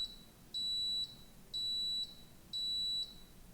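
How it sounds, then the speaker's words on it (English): A smoke alarm chirps in three steady high-pitched beeps, each about half a second long with equal gaps, fairly faint over a quiet room with no talking. "Ignore the beeping."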